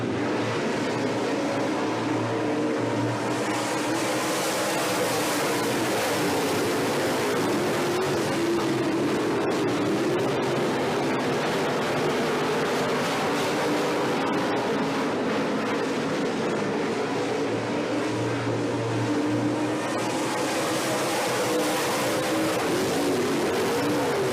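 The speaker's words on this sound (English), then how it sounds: "Second and final WISSOTA Modified Heat Race of the night." WISSOTA Modified race cars run a heat race at Eagle Valley Speedway, a dense, continuous engine roar at close range that swells and fades as the pack laps, steady throughout with no talk over it.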